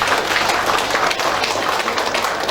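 A political party gathering of PAN members in Malang, held at a joint fast-breaking event, fills with a dense, steady wash of audience clapping throughout, close and continuous with no spoken voice.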